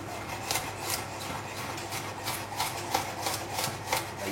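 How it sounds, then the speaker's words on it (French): A knife chops a garlic clove on a cutting board in quick, evenly spaced taps, about two or three per second, close up and crisp with no voices. "La première chose, on va hacher la gousse d'ail."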